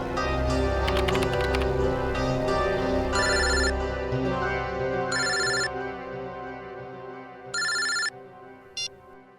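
Inside a CID office scene, a telephone rings in several loud, evenly spaced electronic trills. At first a musical drone plays under the rings, and later they sound alone.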